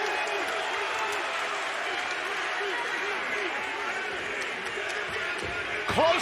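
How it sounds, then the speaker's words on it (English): Arena wrestling crowd roaring and cheering during a pro wrestling match, a dense, continuous wall of crowd noise with voices and whistles, swelling near the end while a commentator talks over it. "This crowd red hot for Ricky."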